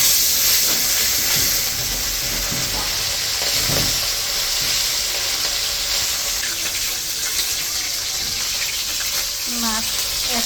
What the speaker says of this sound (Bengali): তো তেল গরম হয়ে গেছে, মা মাছগুলো ভেজে নেব।